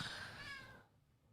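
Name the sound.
cat meowing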